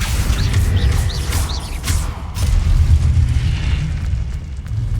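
A booming Confringo spell explosion from Hogwarts Legacy, a loud rumbling blast with sustained low roar and crackling debris, followed by a second swell of rumble, with faint chirp-like spell effects near the start.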